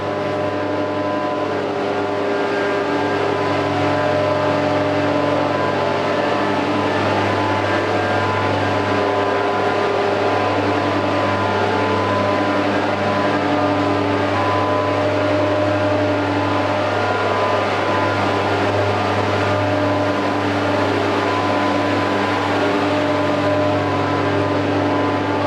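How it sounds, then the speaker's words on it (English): Three large 60 horsepower air blowers run at a wastewater treatment plant, a loud, steady mechanical drone with strong tonal hum, constant throughout with no pauses. "there's 3 60 horsepower blowers out here"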